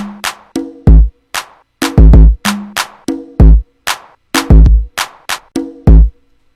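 Tuned conga drums from a virtual kit play a lively syncopated pattern, with deep booming low strokes mixed with higher pitched slaps, loud and close.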